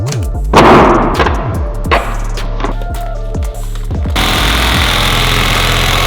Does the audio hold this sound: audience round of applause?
no